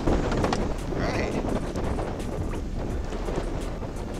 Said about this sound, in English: And wind, the perfect combination.